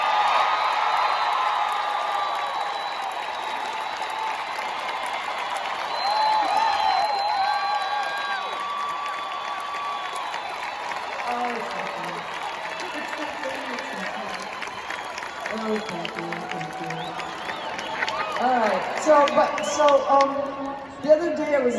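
Arena audience at a concert in Chicago's United Center cheering and clapping in a long sustained roar with whoops and shouts, a voice speaking over the crowd noise throughout.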